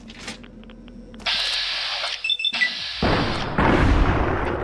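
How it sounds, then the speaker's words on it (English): Explosions in Fallout: New Vegas, a burst of loud booming blasts with broad rumbling noise, building heavier toward the end with a dense, sustained roar. "Ah, those explosions are great."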